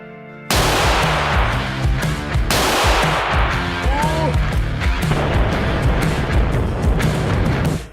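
A firecracker coated with paint goes off in a loud, harsh blast after a brief quiet lead-in, followed by further bursts and a sustained crackling roar that stays close and intense almost to the end.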